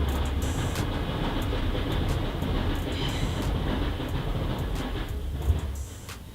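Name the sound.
train passing on nearby railway track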